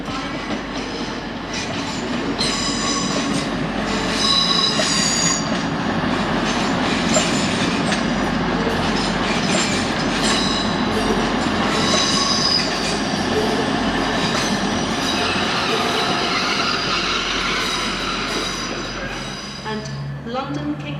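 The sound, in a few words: train passing through Doncaster station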